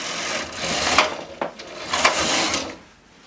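A domestic two-bed knitting machine carriage sweeps across, knitting rows of a hat: two or three close, loud rasping passes with brief clacks between strokes and no voice.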